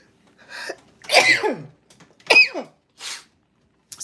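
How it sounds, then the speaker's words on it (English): A person sneezes several times in close succession, loud and near, with short gasps and bursts separated by brief silences. "And all of a sudden I'm sneezing."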